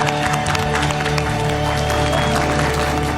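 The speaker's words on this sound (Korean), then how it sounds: "자, 우리 자랑스러운 대한민국에 박수 한번 칩시다." Applause from a studio audience at a lecture show fills the room, dense continuous clapping heard close and loud.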